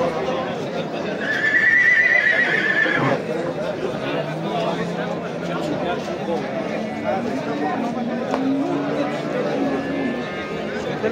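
A horse whinnies loudly nearby amid a busy outdoor livestock market crowd, with people talking and chattering in the background.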